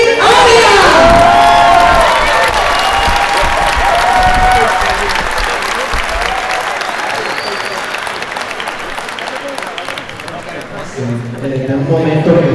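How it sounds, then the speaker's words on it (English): Outdoor hometown celebration crowd applauding and cheering for an honoree, loud continuous clapping with whoops and shouts over it, voices rising and falling, and a speaker's amplified voice coming in near the end. "Please give them round of applause to Kennedy Arias."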